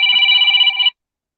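A phone rings once with a bright, electronic trilling tone, close and loud, cutting off abruptly after about a second into silence.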